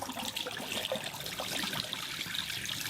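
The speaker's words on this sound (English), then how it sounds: "when I pour it out, you'll see what I'm talking about." Pre-wash water is poured out of a film developing tank, a continuous close splashing trickle that runs steadily for a few seconds without speech.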